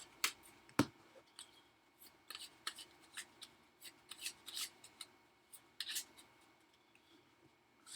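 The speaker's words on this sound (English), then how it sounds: "then we will get to shuffle these cards" Soft, quick riffles and slaps of playing cards being shuffled, close and quiet, in short irregular bursts.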